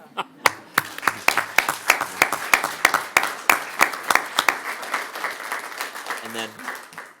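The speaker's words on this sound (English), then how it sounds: "can we give him a little round of applause, maybe?" A small round of applause at a city council meeting, with sparse, distinct hand claps from a few people in a steady patter that thins toward the end. A voice is faintly audible underneath.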